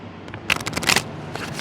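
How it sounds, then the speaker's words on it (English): Playing cards are shuffled in a quick riffle, a crisp fluttering burst up close followed by a brief softer ruffle. "that's the upside down shuffle"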